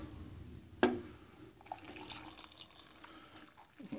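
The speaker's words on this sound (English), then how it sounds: "Let's pour the hot water in." Hot water poured into an MRE pouch, a short splash at the start followed by a soft trickle and gurgling liquid, quiet and close with no talk.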